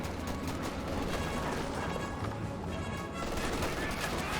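Tank and infantry gunfire in a Company of Heroes 2 battle, with a Panzer IV under fire: dense overlapping shots and rattling bursts that keep going without a break, fairly quiet and mixed into the battlefield din.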